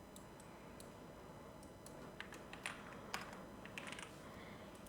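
Keys clack on a computer keyboard as text is entered in CapCut on a PC, with scattered light taps of uneven rhythm that are faint and close against a quiet background.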